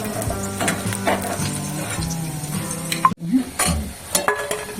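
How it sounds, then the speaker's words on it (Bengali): Drumstick flower fritters fry in oil over lowered gas heat, a steady close sizzle with stirring and occasional utensil clinks, broken by a brief sharp scrape near the middle. "গ্যাসটাকে কমিয়ে দিয়েছি ভিতরটা ভালো ভালো করে ভাজা হবে"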